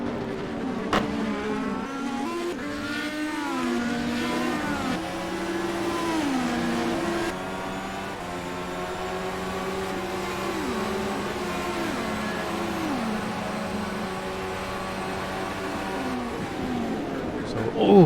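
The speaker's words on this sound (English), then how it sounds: "very good braking there by Ben Silva in the 87. Really closed in there on the 44." Onboard Indy car from the 87 running behind the 44 on the Toronto street circuit, engine droning and stepping through gear changes with pitch sweeps as it brakes and downshifts, under steady commentary talk.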